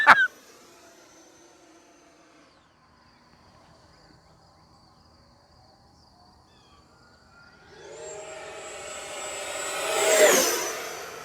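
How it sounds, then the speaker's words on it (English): A Horizon Hobby Viper 90mm RC jet builds from a faint distant whine into a loud, rising turbine roar that peaks sharply near the end as it streaks past close by. "I have to have a high-speed pass. It's happening right now."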